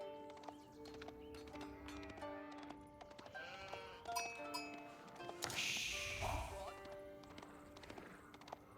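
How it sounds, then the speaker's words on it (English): Sheep bleat several times over light trotting hoofbeats and Age of Empires IV sound effects during a tournament match, with a brief louder rushing burst midway. "There's a herdable sheep up in the top corner."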